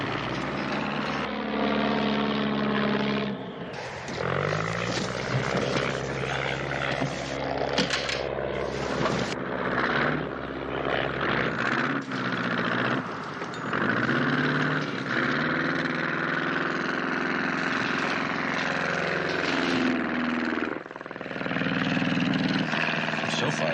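A small airplane's engine drones steadily in flight, loud and continuous with slowly shifting pitch as the throttle is worked, and voices talk over it.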